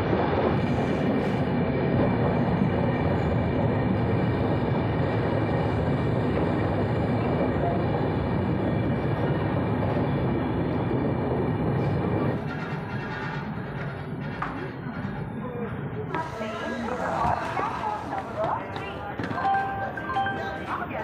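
The 12810 Howrah–Mumbai Mail rolls through the night near Nashik Road, a continuous close rumble of carriages and wheels that shifts in character partway through, with some voices and clatter toward the end.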